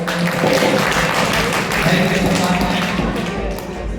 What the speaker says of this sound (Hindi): भाई एक बार जरा जोरदार ताली बजा